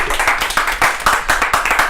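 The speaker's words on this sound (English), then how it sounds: "Give him a round of applause." Applause and clapping from a comedy-night audience after comedian Andrew Tavin's set, a steady dense wash of many hands with rhythmic swells, close and fairly loud.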